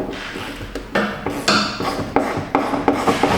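A ratchet handle is turned in short, repeated strokes while working under a 2019 Kia Optima at the filler neck, giving close, raspy clicking pulses in a steady rhythm.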